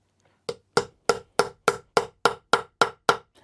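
Ten evenly spaced hammer blows setting a snap on a cosplay holster, each a sharp, loud, close knock with a quick decay, struck at a steady rhythm of about three per second with no talking.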